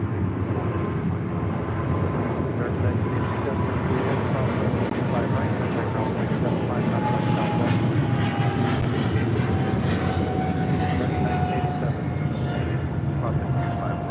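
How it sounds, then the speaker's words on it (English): An Aerologic DHL Boeing 777 freighter takes off at LAX, its jet engines roaring in a sustained, broad rumble with a slowly shifting whine, while a voice talks over the noise. "It's a 777 freighter."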